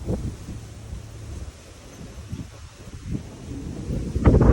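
Wind gusts across a microphone outdoors in Japan, a steady low rumble of buffeting with a stronger burst near the end, no voices present.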